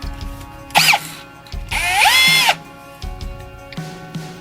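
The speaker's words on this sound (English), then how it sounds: "we're going to drill a giant hole in the side of our brand new RV" A power drill fitted with a hole saw cuts through the side wall of a new RV, whining in short loud bursts with brief pauses between them, close by and with no talk.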